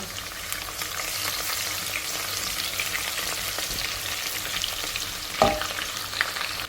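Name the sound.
onion frying and sizzling for Ghana jollof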